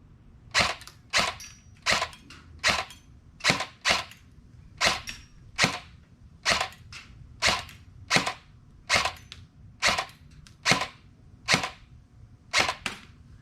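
An LCT LC-3 AEG airsoft rifle dry firing, a steady series of sharp, close snapping shots roughly every second, each a crisp click-bang with a short tail, no talk.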